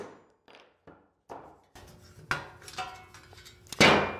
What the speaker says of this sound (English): my next step for these is to get them knocked out. To do that, I'm going to use a cold chisel.